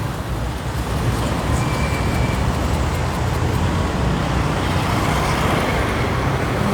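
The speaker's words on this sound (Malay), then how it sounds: "Terlalu banyak kereta, saya tak boleh cross." Heavy road traffic roars steadily as many cars and other vehicles stream past nearby, a loud continuous wash of engine and tyre noise with no pauses.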